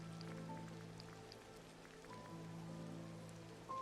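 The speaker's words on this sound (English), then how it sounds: "I wish it was not raining right now." Rain falling in the Disney Dreamlight Valley video game, a steady soft patter sustained evenly throughout under faint game music tones, with no talk.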